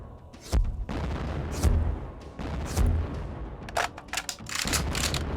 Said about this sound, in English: here is the assault rifle in that version